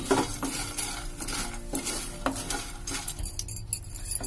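Sesame seeds fry in a pan over a low flame while a spoon stirs and scrapes them, giving a soft sizzle under repeated metallic scrapes and light clinks against the pan.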